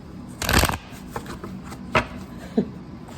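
Tarot cards being shuffled: a loud riffling burst, then a few softer flicks and taps spaced apart, close by with no talking.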